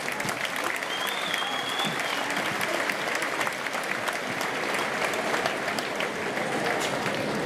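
An audience at an international circus artists' festival awards ceremony in Saint-Paul applauds the jury, a dense, sustained clapping that holds evenly loud throughout.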